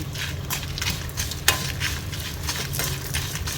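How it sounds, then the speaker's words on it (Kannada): Chana dal sizzles steadily in hot oil while being fried for bitter gourd gojju, a continuous close crackle with occasional stirring scrapes and one sharp clink of a utensil against the pan. "ಇವಿಷ್ಟನ್ನು ಈಗ ಇನ್ನೂ 1 ನಿಮಿಷ ಫ್ರೈ ಮಾಡಿಕೊಳ್ಳುವ."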